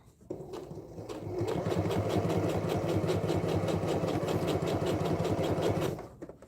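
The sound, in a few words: sewing machine sewing oilskin and quilting cotton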